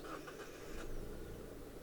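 A 2017 Mazda Axela Sports 15S with a manual gearbox starts up: a brief cranking burst leads into a quiet, even engine idle, with no voices.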